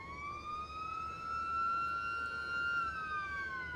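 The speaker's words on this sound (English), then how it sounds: "The first siren's out." A single long race start siren wail rises and holds steady at a motorcycle race, heard at moderate distance over a low background rumble.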